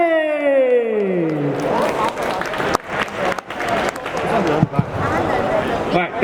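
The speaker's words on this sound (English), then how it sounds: "So let's give a round of applause to K. Stevenson, ex" A convention crowd applauds a speaker after a brief spoken introduction, and the dense clapping continues steadily to the end.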